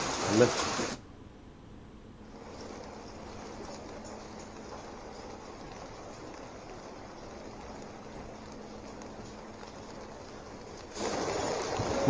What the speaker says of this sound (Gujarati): ચાલીસ કિલોમીટરની ઝડપે પાણી વહી રહ્યું છે